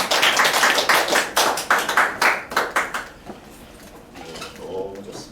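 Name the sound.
congregation clapping in blessing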